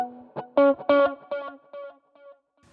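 Electric guitar played through a Boss GT-100 Diamond Echo patch: a short run of distinct picked notes, bright and harmonically rich, each trailing into a shimmering echo that fades out alone.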